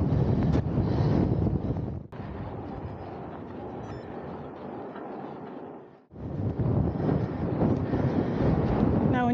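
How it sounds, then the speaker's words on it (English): Strong side wind buffets the microphone while cycling through open volcanic country in Lanzarote, a loud, continuous roaring rush that briefly drops away twice before surging back. "So just a little bit more side wind and we'll be blown all the way to Playa Blanca."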